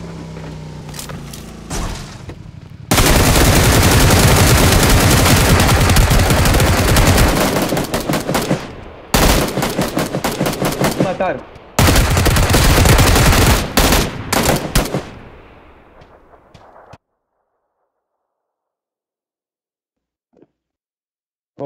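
Loud, rapid automatic gunfire in the PUBG Lite video game comes in long sustained bursts separated by short gaps, then stops into silence, and a voice speaks briefly.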